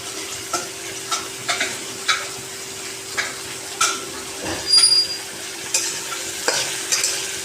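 Chopped green chilli and onion fry in a pan, giving a steady sizzle broken by repeated scraping clicks of a spatula stirring, close by with no talking.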